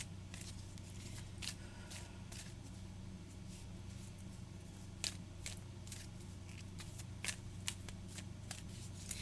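Oracle cards being shuffled over and over, a soft riffling and flicking with occasional sharper snaps, against a steady low background hum.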